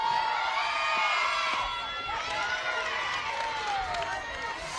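Crowd at a college softball regional final game, shouting and cheering at a lively middle distance, with high voices rising and falling over a few seconds.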